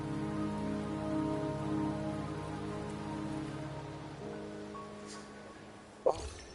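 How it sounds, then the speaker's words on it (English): Rain falls steadily in the video game Wuthering Waves, a soft continuous patter under sustained tonal music, with a brief sharp knock near the end. "The rain is subsiding, and the sky will soon clear."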